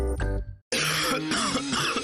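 Coughing in a Latvian TV advertisement for a hot herbal cough drink: a short, harsh cough up close, a brief silence, then a rougher throat-clearing cough.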